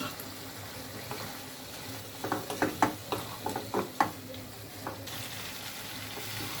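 Previously fried potatoes go into a sizzling pan with tomatoes for a Bengali tilapia kalia, making a steady fry hiss and a quick run of clattering, stirring knocks midway, without speech.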